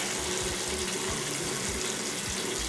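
Tap water runs steadily into a sink during face washing, a constant splashing hiss with small bursts as hands scoop and splash, close and alone without talk.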